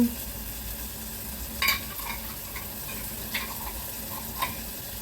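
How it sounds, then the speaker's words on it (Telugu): Chilli powder, curry leaves and turmeric frying in a pan with a steady low sizzle, broken by a few brief scrapes of a spoon stirring the spices, close and fairly quiet, with no talking. "అంటే పచ్చికారము పచ్చివాసన పోయేంత వరకు వేపుకోవాలి."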